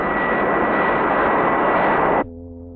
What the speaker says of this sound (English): With a 40 miles per hour crosswind produced by a powerful jet engine